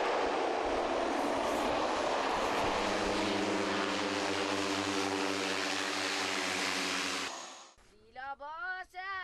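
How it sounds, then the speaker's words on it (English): Twin Otter propeller plane flying among the high Himalayan passes in Nepal, a loud steady engine and propeller drone filling most of the clip before cutting off, followed by brief voices. "quite exciting as the plane meanders around the high Himalayan passes"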